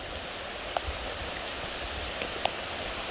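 Steady rain falls during a hike at Seven Bridges park in Cudahy, Wisconsin, a soft even hiss with a couple of sharp drip taps, no talking.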